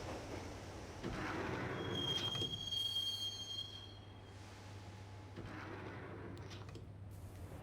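A subway train rides between stations in the Max Payne video game, a steady rumbling carriage drone with a thin metallic wheel squeal rising over it partway through, no voices.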